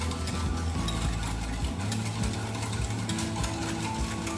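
A mixer whips dalgona coffee until foamy, giving a loud, steady mechanical whir that runs without a break.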